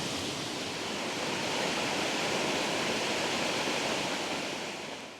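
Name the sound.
Mells River flowing through woodland in Somerset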